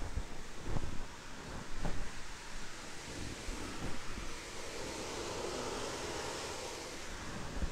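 Mixed wastewater pouring steadily through a drain, a continuous loud rushing wash with a few low thumps early on, alone with no voices.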